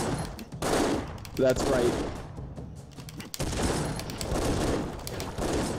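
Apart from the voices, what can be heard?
gunfire in Broforce video game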